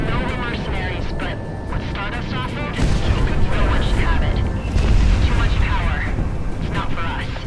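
Fighter jets roar in a flight combat video game over a geothermal wasteland, a loud dense rumble of engines and booming blasts that swells midway, with voices talking over it.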